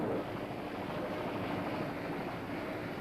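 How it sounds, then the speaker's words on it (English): A racing powerboat driven by Gentry inboard engines runs at full throttle, giving a steady, dense, loud roar that holds without a break. "Just listen to this boat go."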